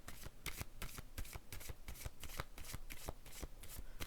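Tarot cards are shuffled close by in a steady run of quick riffling flutters, soft and even, lasting the whole moment without talk.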